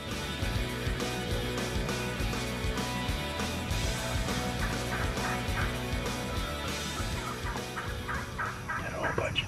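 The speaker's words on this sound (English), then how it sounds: "Had a whole bunch of turkeys in." A flock of wild turkeys gobbling repeatedly and overlapping, loud and close, with a steady chorus filling the whole stretch, during a deer hunt in Wisconsin or Texas.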